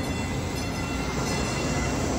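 A DART local train in Dallas rumbles close by, a steady loud roar of wheels and carriages with no let-up across the short stretch.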